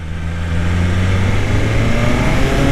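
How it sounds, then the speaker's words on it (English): A 2024 BMW S1000RR motorcycle on its stock exhaust runs close and loud, the engine note sweeping and shifting as it comes off throttle on the overrun. "The shitty stock exhaust even pops and crackles on the overrun."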